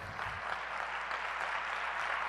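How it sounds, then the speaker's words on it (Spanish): A church congregation applauds for the Lord during a sermon, a steady, dense wash of many hands clapping together for the whole short stretch. "¿Cuántos le pueden dar un fuerte aplauso al Señor?"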